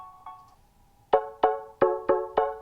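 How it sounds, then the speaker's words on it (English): A soft held tone, then five bright, bell-like synthesized electric piano notes struck one after another with quick decays. "I believe this is an electric piano, but it's a synthesized electric piano."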